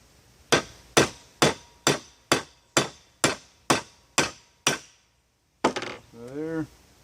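A big hammer flattening a powder-coated lead bullet, with ten sharp, evenly spaced metallic blows ringing close and loud, then a brief pause, a final hit and a short voice.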